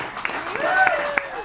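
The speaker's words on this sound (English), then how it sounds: "Let's keep that applause going" Audience applause at a live old-time music hour show, a steady wash of clapping with a few sharper claps standing out, heard under a speaking voice.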